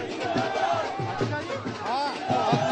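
Crowd noise at a politician's road show in Ghaziabad: a steady outdoor hubbub of many overlapping voices and shouts, with a nearer voice talking over the din throughout.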